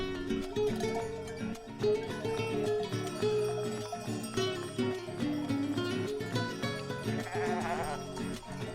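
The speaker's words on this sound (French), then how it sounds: "Ces chèvres vont s'alimenter avec le pâturage pour protéger le village des incendies." Goats grazing on a hillside by a village in the Serra da Estrela mountains bleat repeatedly, several animals calling near and far, over a steady bed of bells and background rustle.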